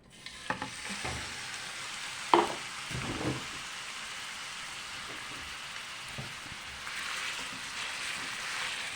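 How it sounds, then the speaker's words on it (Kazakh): Minced meat frying in oil in a pan on the stove, a soft steady sizzle with a few scraping stirs and light clatters of a utensil, fairly quiet and without talk. "фаршымызды жақсылап қуырамыз."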